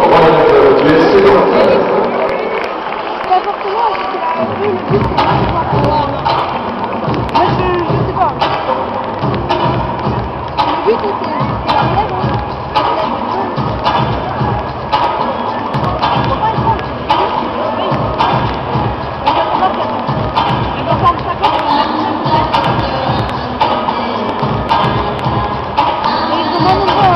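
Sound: stadium crowd applauding young players

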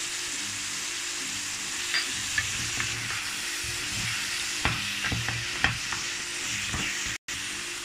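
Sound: stirring tomato in frying pan for chicken rice

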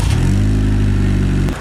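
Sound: car engine starting and revving

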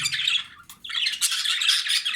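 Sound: budgerigar squawking

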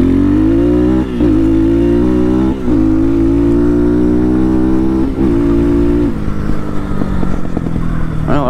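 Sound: Amazon dirt bike accelerating through all the gears

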